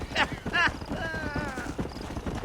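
A horse's hooves clip-clop at a steady walking rhythm in the video game Red Dead Redemption. A whinny rises over them, and a voice talks briefly at the start.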